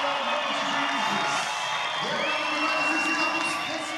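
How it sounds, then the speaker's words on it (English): A crowd at an X Games skateboarding contest cheers and whoops after a final run, a sustained roar of many voices at moderate distance, with a commentator's voice faintly mixed in. "Listen to this crowd"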